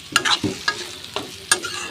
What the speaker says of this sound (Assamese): একদম হালকা জুইত ভাজিয়ে থাকিব ধুনীয়াকৈ ভাজি থাকিব